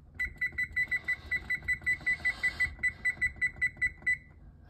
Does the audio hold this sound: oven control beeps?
yes